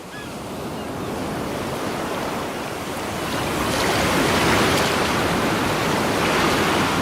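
Sea waves roll and wash continuously, a broad steady surf swelling louder partway through, with no voices.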